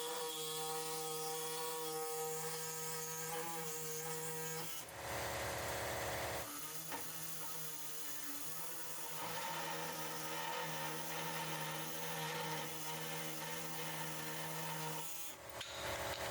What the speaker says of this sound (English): Make a cut on each side of the carrier frame.